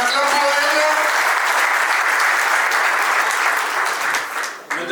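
A crowd at a civil wedding ceremony bursts into loud, sustained applause, dense clapping for several seconds before it tapers off near the end, with voices mixed in.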